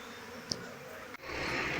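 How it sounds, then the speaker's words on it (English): A large honey bee swarm pours into an empty backyard hive, making a dense, steady buzzing hum close to the microphone, with one brief tick partway through and no voices. "today I had a big swarm coming into one of my empty hives at home, and there go the bees."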